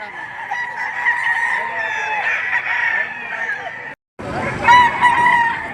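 Gamecock roosters crowing at a livestock auction in Padre Garcia, Batangas, with repeated loud nearby crows overlapping each other, a brief break, then more crowing and clucking, with voices faintly underneath.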